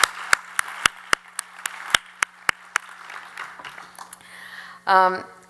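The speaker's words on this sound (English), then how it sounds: "let's give Bridget a round of applause." Sparse, distinct hand claps from a small audience at an awards ceremony, evenly spaced sharp claps that thin out and fade, followed by a brief burst of speech at the end.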